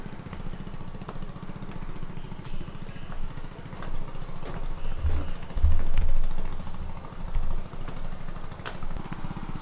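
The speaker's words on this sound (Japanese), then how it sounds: "なんかボート来たんだよ。" A motor boat comes closer in a mangrove national park at Chumphon in southern Thailand, its engine a low, steady drone that swells in the middle of the stretch, with no talk over it.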